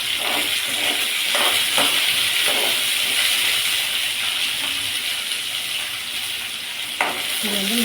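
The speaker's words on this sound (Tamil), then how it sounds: "நல்லா வணக்கி எடுத்துக்கணும்" Ingredients sauté in a pan over low heat, giving a steady sizzle with occasional stirring clinks and scrapes, close and continuous throughout.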